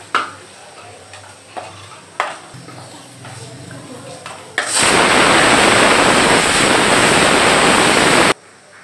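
Desiccated coconut being roasted and stirred in a pan, first a few sparse knocks and scrapes, then a loud, even rushing sizzle that holds steady before cutting off abruptly.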